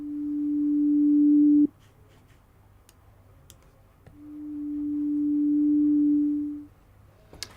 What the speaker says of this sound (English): The initial patch is a single simple sine wave.